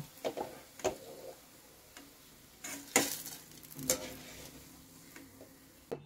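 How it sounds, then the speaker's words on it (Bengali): Potato slices frying in oil make a faint, low sizzle over a quiet stretch, broken by several sharp clinks and scrapes of a utensil against the pan at uneven intervals. "এই দেখো এভাবে লাল লাল করে কিন্তু সব ভেজে নেবো"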